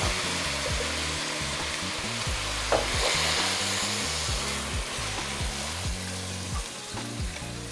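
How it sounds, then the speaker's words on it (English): Spanish wine poured into a hot pan of lasagna meat sauce to deglaze it, producing a loud, steady, close sizzle with stirring scrapes throughout and no talking. "And now we're going to add the wine. So what we're going to do is the wine is going to deglaze the pan"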